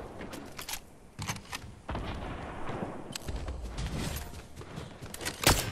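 Sniper and other gunfire in the video game Fortnite: scattered sharp cracks and booms spaced irregularly over rumbling background, with one especially loud, bright shot near the end.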